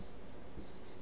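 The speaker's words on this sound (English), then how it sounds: "I'll write the length over here." Handwriting with a pen or marker, noting a list's length beside a linked-list diagram, as steady scratchy strokes, close and clear, with no talk over it.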